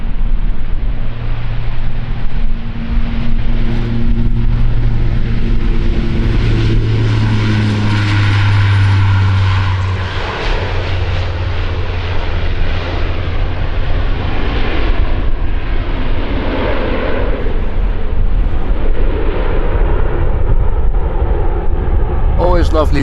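Turboprop airliner departing runway 36L at Amsterdam Schiphol, a steady low propeller and engine drone with wind rumble, heard beneath continuous commentary from a person speaking throughout.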